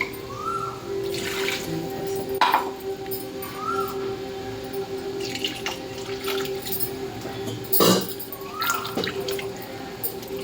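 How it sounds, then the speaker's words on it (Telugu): Water poured into a pan of ivy gourd (dondakai) gravy curry, a soft splashing trickle with a few brief louder spatters over a steady low kitchen hum. "ఇప్పుడు కొంచెం వాటర్ అయితే యాడ్ చేస్తున్నా"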